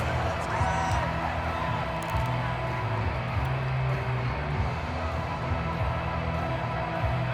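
Stadium crowd cheering in the Madden NFL 22 football video game during an AFC wild card playoff, a steady loud roar of fans with whoops that persists throughout, with commentary voices faintly underneath.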